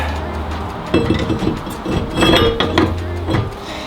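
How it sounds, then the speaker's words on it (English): A steel brake rotor is slid onto the hub of a 1999-2004 New Edge Mustang GT, giving several sharp metallic clinks and knocks in close succession over a quiet shop background. "Now we'll put our rotor on."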